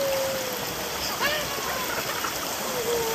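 Mountain valley stream water flowing in a steady, broadband rush close by, with a voice and adult speech heard over the water throughout.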